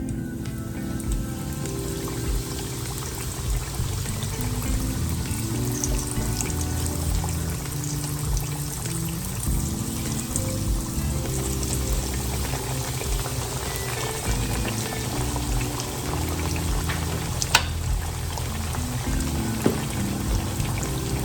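Catfish pieces fry in hot oil with a loud, continuous bubbling sizzle that holds steady throughout, broken by one sharp tick near the end.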